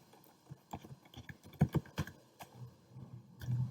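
Text being typed into a document on a keyboard, in irregular clicks and taps that are close and moderately loud, with a low muffled rumble underneath and no talking.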